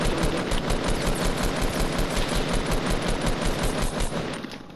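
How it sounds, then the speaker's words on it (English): Loud, rapid automatic gunfire from the Fortnite video game, a continuous rattling burst of closely spaced shots that rolls on for several seconds before tapering off at the end. "he's shooting you, Matt"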